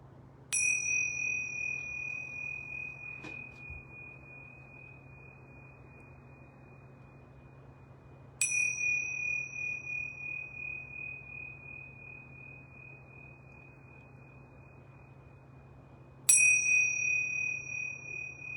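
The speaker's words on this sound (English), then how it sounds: "So I'm going to ring our yoga bells 3 times." Yoga bells struck three times, evenly spaced about eight seconds apart, each a bright ringing tone that slowly decays over a faint low hum, with no talking.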